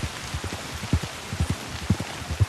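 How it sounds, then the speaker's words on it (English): Heavy rain in Red Dead Redemption 2 falling steadily in a city, a dense hiss with irregular low patters of drops hitting a surface, fairly close and without voices. "We haven't really had a downpour of rain like this in a little bit."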